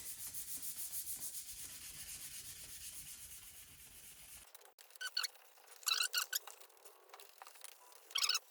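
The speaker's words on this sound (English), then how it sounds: "So we're just going to give them a sand back." Rhythmic rubbing strokes of sandpaper scuffing paint off AJS 16M motorcycle parts, followed by quieter, irregular scratchy rubs and squeaks.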